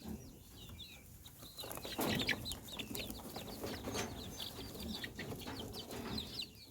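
Chickens kept in a brooder, clucking and murmuring near the camera in a steady stream of soft, overlapping calls with occasional sharper squawks and rustling as they move around in a circle.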